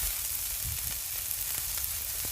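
Onion and capsicum sauté in a hot pan, giving a dense, continuous sizzle with faint stirring knocks underneath, close and loud, with no talk.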